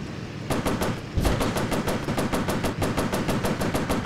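Rapid machine gun fire from a warplane in the Pacific air combat game, a steady loud rattling burst of evenly spaced shots that continues through the whole stretch, with no talk over it.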